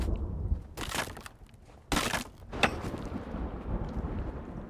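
Thunder from an approaching storm in the survival game Sons of the Forest, with two heavy rumbling crashes over a steady rain-like wash of ambient noise and no talking.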